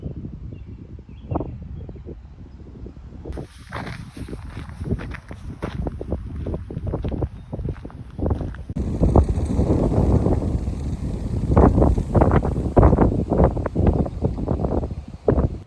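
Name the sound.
strong wind on microphone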